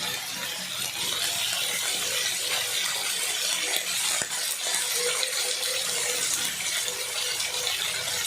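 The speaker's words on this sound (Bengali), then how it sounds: "দিয়ে তারপরে ভালো করে নাড়াচাড়া করলাম" Chilies being stirred in a frying pan with a sizzling, scraping clatter, continuous hiss of frying throughout at close range, no voices.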